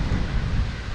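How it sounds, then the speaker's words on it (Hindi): Strong wind roars across the microphone, a dense, steady rumble with gusty buffeting that fills the whole second without any voices. "हवा चल रही है काफ़ी तेज"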